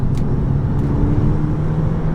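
A Volkswagen GTI fitted with a bigger turbo, a Revision G diverter valve and a decat drives along with a steady, close engine hum and road rumble, no voices over it.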